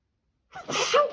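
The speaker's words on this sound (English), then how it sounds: "Oh, I'm going to sneeze." A single loud, sharp sneeze bursts out after a stretch of silence at a quiet craft table during a spring journaling session.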